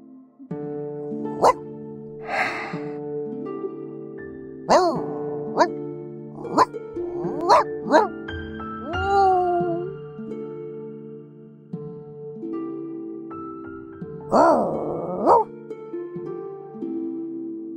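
A puppy in the game Reverse: 1999 gives a series of short, high yips and barks with a few whimpers, close and clear, spaced irregularly over a soft musical background.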